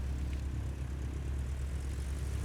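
A Cessna's propeller engine drones at takeoff power on a runway in a flight simulator, a steady low hum that stays faint and continuous with no voices over it.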